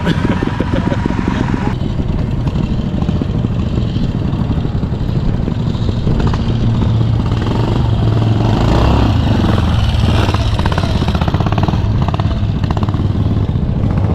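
Trials motorcycles at a club event picking their way over rocks, engines burbling and revving loudly up close with clattering over the ground, and no talk over the sound.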